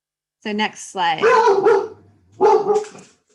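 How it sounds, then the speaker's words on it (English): A dog barks in a few sharp bursts in the background of a remote state water board meeting, the barks mixed in with a man's speech and sounding fairly close. "Sorry for the dog."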